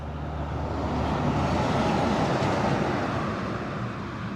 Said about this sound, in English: We've just got a truck going past here.